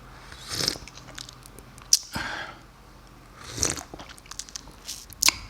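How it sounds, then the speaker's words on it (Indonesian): Black coffee from Bangka being sipped, several short, close slurping bursts spaced unevenly over a few seconds with quiet gaps between and no talk. "kita seruput kopinya"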